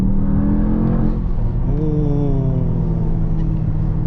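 A 2023 Mercedes-AMG GT 63 S E-Performance with an 843 hp V8 accelerates hard from inside the cabin, a steady engine drone rising in pitch as it pulls, loud and continuous with no talk.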